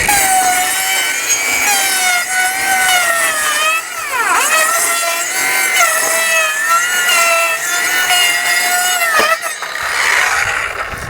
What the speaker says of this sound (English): let's use my handy little battery-powered skill saw, which works really nice.